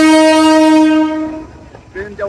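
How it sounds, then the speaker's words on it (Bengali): A train horn sounds loud and steady as the train passes a crowded crossing, then fades into rumbling wheels and background voices. "ট্রেনটা চলে যাচ্ছে।"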